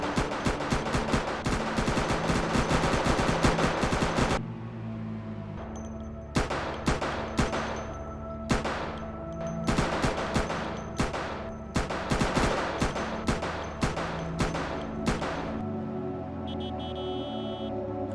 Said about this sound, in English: I end up launching some grenades